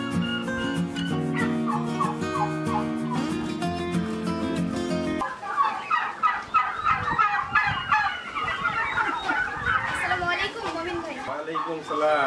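Turkeys gobble on a poultry farm during feeding, a rapid chorus of rattling calls after a stretch of music, close and fairly loud.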